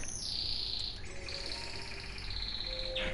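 Pet birds chirping indoors, thin high tweets and a sustained whistling trill that fall away before a brief pause, quiet and steady beneath a faint low hum.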